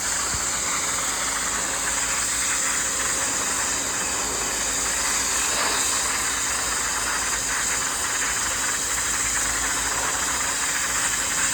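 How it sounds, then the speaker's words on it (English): An electric 2100 PSI pressure washer sprays a frozen, plugged air conditioner coil, giving a loud, continuous hissing spray over a steady motor drone that holds unbroken throughout with no talking. "Went and picked myself up an electric 2100 PSI pump sprayer. Pressure washer."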